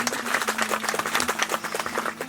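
An audience claps steadily and continuously after a Turkmen poem is introduced, many hands beating in a dense, even patter throughout.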